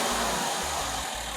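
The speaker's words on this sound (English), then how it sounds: "Start the car now." A car engine starts and runs. It makes a loud, dense rumbling roar, close and continuous for a moment, with no voices over it.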